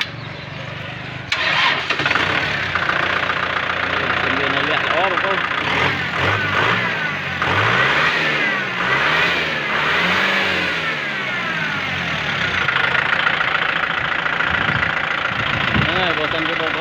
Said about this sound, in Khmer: មើលខ្ញុំតេស្តម៉ាស៊ីនឲ្យបងប្អូនមើល